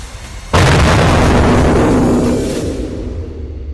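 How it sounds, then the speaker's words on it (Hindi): A missile or airstrike explosion erupts suddenly into a loud, sustained roaring blast that slowly fades, with no speech over it. "कई इलाकों में लगातार धमाकों की आवाज सुनी गई।"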